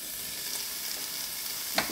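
Onion, tomato and coconut sauté in a pan with a soft, even sizzle at close range, quiet and continuous, ending in a couple of brief spoon scrapes.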